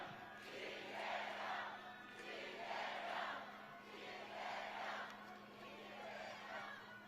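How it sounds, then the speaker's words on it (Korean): A large outdoor rally crowd cheers and chants in rising and falling waves, a steady roar from many voices across a wide space, with a low constant hum underneath. "뜨거운 박수 함성으로 맞아주십시오"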